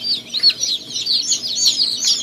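Newly hatched chicks cheep in an incubator at harvest time, a dense, continuous chorus of high, thin peeping calls from many birds close by, with no talking.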